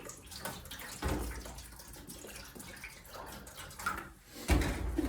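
Distilled water poured into a container while mixing a collodion developer, a steady trickling splash running through the whole stretch with a few louder surges, close by and with no talk over it.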